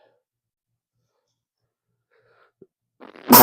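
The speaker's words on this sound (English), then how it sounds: "I'm going to sneeze a little bit." Near silence gives way to a short sniffing intake, then one loud, close sneeze bursts out at the end, alone with no talk.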